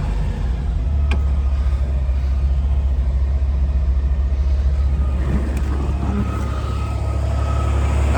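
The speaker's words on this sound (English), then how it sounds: "Nice running engine." A 1963 Chevy Corvair Monza Club Coupe engine idles steadily after starting, a low, even rumble close by with no talk over it.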